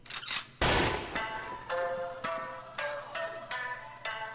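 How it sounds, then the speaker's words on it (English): A sharp gunshot blast opens a music video, loud and close, followed by a run of ringing, echoing metallic hits and reverberant tones, with no talk. "Okay, we started off with a gunshot."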